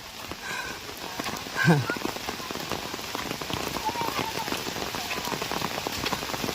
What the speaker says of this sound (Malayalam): മഴയത്ത് പിള്ളേര്, മഴ ഒരു പ്രശ്നമല്ല